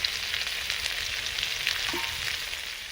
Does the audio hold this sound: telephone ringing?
no